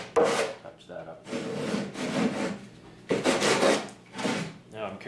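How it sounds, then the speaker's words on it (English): A sanding block rasps back and forth across a wooden trim piece for a bed frame, giving about five close, scratchy strokes with short pauses between them. "That sanding block will touch that up."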